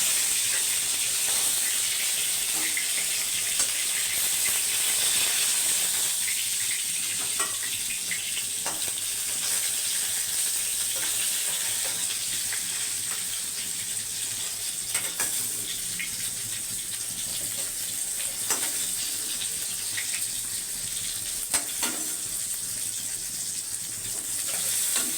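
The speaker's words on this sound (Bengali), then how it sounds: "মাছ ভাজা হয়ে গেছে, হালকা করে ভেজে নেব," Pieces of katla fish sizzle in hot oil with a steady, dense frying hiss that holds for the whole stretch, punctuated by faint clicks, without any talk.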